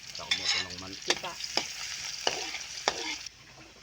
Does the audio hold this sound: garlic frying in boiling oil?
yes